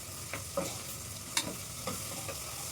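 Ginger garlic paste frying in a pan while tomato rice is cooked, giving a steady sizzle with a few soft stirring scrapes and clinks, close and moderately quiet.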